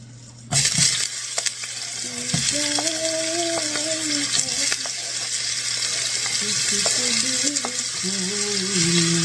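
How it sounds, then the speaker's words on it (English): Onions frying for shakshuka, a steady close sizzle with occasional utensil taps against the pan, while a voice talks quietly over it. "while making a shakshuka, I fry onions until they are nice and soft"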